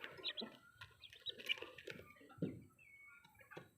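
Chickens on a mini backyard farm: faint, scattered high chirps and soft clucking at close range, irregular and with no talk.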